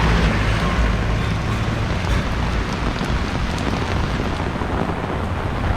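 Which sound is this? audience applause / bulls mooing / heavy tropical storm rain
heavy tropical storm rain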